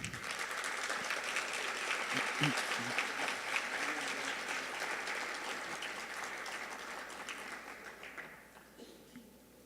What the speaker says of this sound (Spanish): A ellos recibámoslos con un fuerte aplauso.